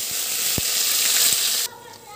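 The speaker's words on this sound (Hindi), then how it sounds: "प्याज को हम थोड़ा अच्छी तरह से भून लेंगे।" Ground onion paste with green chilli, ginger and garlic frying in a pan for aloo dum biryani: a steady bright sizzle with a couple of soft knocks, then it drops abruptly to a quieter hiss.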